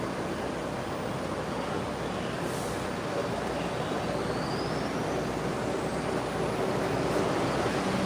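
Steady low rumble and rushing noise of a New York City train moving again after stopping, continuous and fairly even throughout, with no talking.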